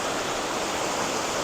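Lower Mill Gill waterfall, a steady broadband rush of falling water, close and constant with no other sounds.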